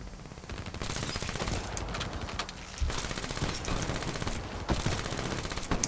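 Gunfire crackles in the Black Ops 3 video game, with repeated rapid bursts and sharp shots over dense background noise and a few louder cracks near the end.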